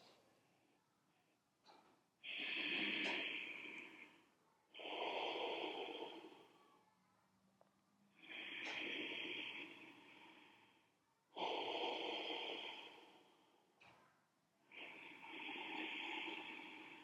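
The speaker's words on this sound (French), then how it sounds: "en faisant cette respiration qui fait un bruit sur la gorge" Ujjayi yoga breathing gives slow, even cycles of breath audibly constricted in the throat, a soft hiss rising and fading five times with quiet pauses between, close and alone.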